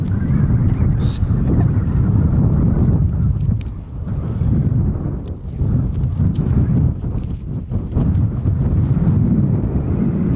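Wind gusting across open Dartmoor moorland in dry June weather, with a tarp flapping and buffeting; the rushing noise is loud and continuous, swelling and easing in waves, with brief rattling flaps on top.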